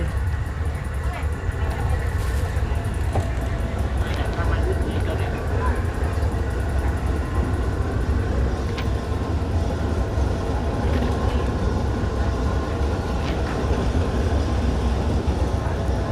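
Steady, loud rumbling of a train starting to move, between Lampang and Phrae in Thailand, with continuous low mechanical noise and faint clanks, as voices talk over it.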